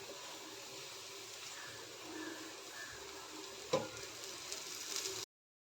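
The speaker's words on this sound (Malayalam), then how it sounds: "ഇതിലേക്ക് കുറച്ച് വെളിച്ചെണ്ണ ചേർത്ത് നന്നായി വറുത്തെടുക്കാം" Low, soft sizzle of coconut oil frying, steady throughout, with a brief clink near the end.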